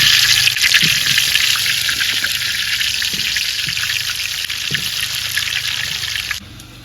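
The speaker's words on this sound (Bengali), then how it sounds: "এদিকে আলু ভাজা হইতে থাক" Steady, loud sizzling of potatoes frying in hot oil, a continuous crackling hiss with a few soft clinks, fading slightly at the end.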